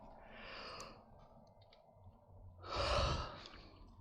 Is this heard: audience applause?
no